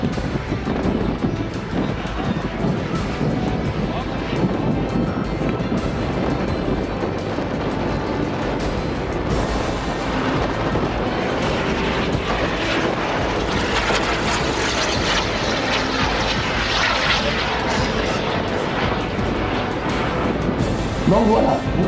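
Blue Rafale model aircraft flying at an air meeting in Challes, its engine a continuous rushing roar that rises and falls as it passes, mixed with wind buffeting the microphone and someone talking throughout.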